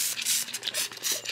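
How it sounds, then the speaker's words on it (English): Ant spray misted from a spray bottle onto a succulent plant, several short hissing bursts in quick succession, close and fairly loud, with no talking. "So now I'm just going to continue spraying my plant here."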